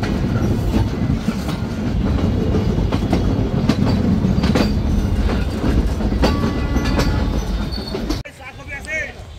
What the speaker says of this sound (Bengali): প্রায় 2 ঘন্টা বিলম্বে আমরা প্রবেশ করছি আমাদের শেষ গন্তব্যস্থল খুলনা রেলওয়ে স্টেশনে